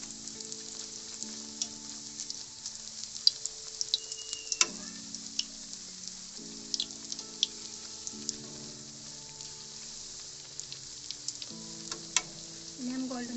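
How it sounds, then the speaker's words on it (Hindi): Bread slices fry in hot cooking oil for a sweet bread dessert, giving a steady close sizzle with scattered crackles and pops throughout, and no talk. "अब इसमें हम ब्रेड फ्राई करेंगे।"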